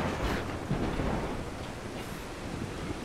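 A rolling thunder rumble fills the scene in the video game Tomb Raider 2 during a lightning strike, with rain-like broadband noise steady throughout, loud and close, no voices.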